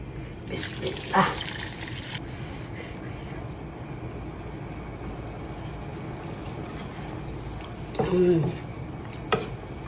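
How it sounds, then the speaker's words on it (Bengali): Water is poured into a pot of cooked chicken to make gravy, with brief splashes and stirring near the start and again near the end over a low kitchen background. "এখন এতে আমি দিয়ে দিব ঝোলের পানি"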